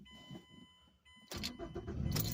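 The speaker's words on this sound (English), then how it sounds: "Whether it's in gear or neutral, you have to push the clutch pedal in before you start it." A manual transmission car's engine starts: after a quiet, faint hum with a brief crank, the engine catches loudly and settles into a steady running roar.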